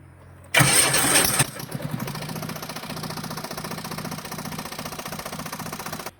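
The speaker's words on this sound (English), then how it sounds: "So there it starts the engine" A Bobcat 642 skid steer loader's diesel engine cranks with a loud burst, catches, and settles into a steady, slightly knocking idle close by, with an exhaust leak.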